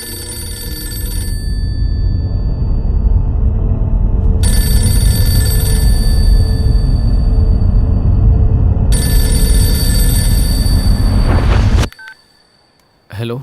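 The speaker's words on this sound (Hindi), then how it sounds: "फोन क्यों नहीं उठाता?" A telephone rings in repeated bright electronic bursts over loud dramatic music and rumble, then cuts off abruptly near the end.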